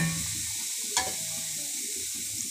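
Semolina poured into hot ghee and soybean oil for sooji halwa sizzles and crackles steadily, with a brief louder burst near the start of the pour and stirring scrapes throughout.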